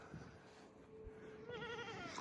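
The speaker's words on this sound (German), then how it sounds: "So, hier haben wir eine Ziege." A goat bleats faintly outdoors with a thin, wavering cry rising near the end, over quiet background hiss.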